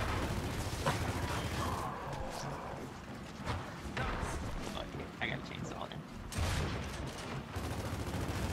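Gunfire in a Gears of War 4 match comes as scattered shots and bursts through a noisy firefight, with a person talking over the action.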